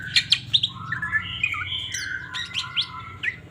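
A caged green leafbird in breeding condition sings a bright, varied run of whistles and chirps up close, continuous and lively throughout.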